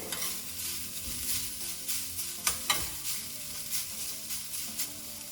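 Grated carrots with a pinch of salt are stirred briskly in a hot frying pan, a steady sizzle broken by scraping strokes of the spoon, with a few sharper clacks near the middle and no voices.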